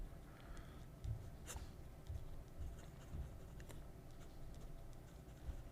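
A pen nib drags across paper, faint close-up scratching strokes with occasional sharper ticks, quiet and unaccompanied by speech.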